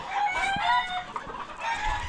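Wild chickens cluck under a roof, a few close, uneven clucks and short calls that rise and fall in brief bursts.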